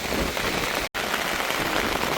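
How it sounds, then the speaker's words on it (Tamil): Heavy rain pours steadily at a beach in Jaffna, a dense, loud, continuous hiss of drops on surfaces with a brief cut of silence partway through. "ஃபுல்லாக மழை பெஞ்சு கொண்டு இருக்கு."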